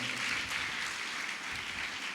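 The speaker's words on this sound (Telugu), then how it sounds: "చప్పట్లు కొట్టి ప్రభువును మహింపరచండి" A church congregation clapping in praise, a dense, even wash of applause that holds steady for a couple of seconds, moderately distant and fairly quiet.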